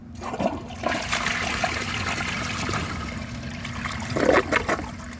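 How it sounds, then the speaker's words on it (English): A 2001 Vortens Vienna toilet flushes with a dry bowl, a close, loud rushing swirl of water that runs steadily for several seconds, with a gurgling surge near the end. "so I'm gonna flush it now and see how it does"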